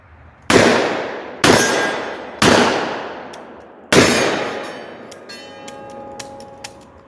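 Four loud revolver shots fired at a target with reloaded ammunition, spaced about a second apart and each ringing out with a long decaying echo, followed by faint metallic clicks and small clanks as the cylinder is handled.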